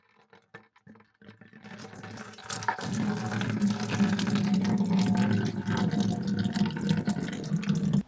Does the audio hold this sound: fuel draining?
yes